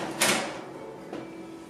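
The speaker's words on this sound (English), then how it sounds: "Close the door," An oven door shuts with a sharp clunk near the start, followed by a fainter second knock a moment later, close by in a quiet kitchen.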